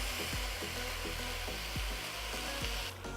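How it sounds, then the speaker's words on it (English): A loud, steady sizzle from a pan of sweet and sour sauce made with ketchup, brown sugar and apple cider vinegar, with a regular scraping rhythm of a utensil stirring through it, close by. "Stir that down just so I don't burn anything"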